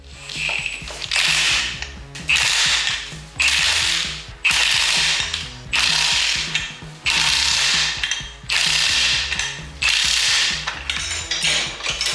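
A ratchet tightens a wheel back onto a Sears Custom 6 garden tractor, loud and close, in a string of fast clicking bursts about a second long with short pauses between them.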